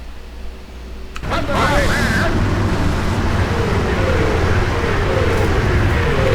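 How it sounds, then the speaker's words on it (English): Nebelwerfer rocket launchers in the Sudden Strike 3 World War II strategy game fire as a rising whoosh, followed by a dense, steady roar of distant battle that carries on without a break. "can hear the Nebelwerfers going off in the background"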